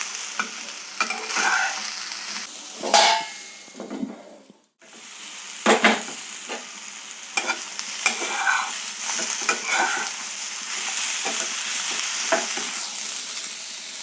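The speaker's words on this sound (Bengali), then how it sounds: "যাতে বেগুনগুলো ভালোভাবে ভাজা হয়ে যায়।" Eggplant pieces fry in a pan for a paneer pasanda, with a steady sizzle broken by repeated scraping stirs of a spatula and a brief quiet moment midway.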